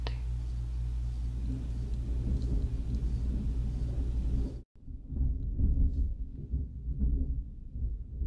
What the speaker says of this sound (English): I just saw some lightning. Wait, let's see if there's thunder.